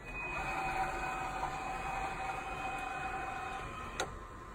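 A steady mechanical whir with a thin whine rises as the steering wheel of an autonomous concept car retracts into the dash, ending in a single soft click, all moderately close and without talk.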